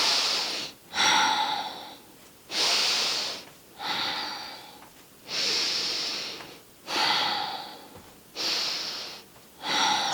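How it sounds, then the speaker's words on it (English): Slow, rhythmic breathing during seated chair yoga, six or so long airy inhales and exhales alternating with brief pauses, close and clear with no talking. "Let's see if we can connect a breath to this movement"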